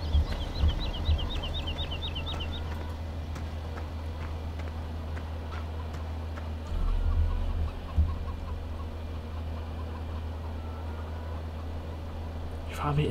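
Chickens cluck on a farm in the video game Farming Simulator 17, a quick rhythmic run of clucks early on, then faint scattered clucking over a steady low engine-like drone, with talk throughout.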